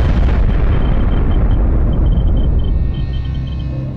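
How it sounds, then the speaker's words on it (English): A nuclear bomb explosion sound effect, a loud, dense roaring rumble that holds steady for a few seconds and then eases slightly as it trails off. "At the order of President Harry Truman, American bombers dropped the only nuclear weapons ever deployed in wartime on the Japanese cities of Hiroshima and Nagasaki"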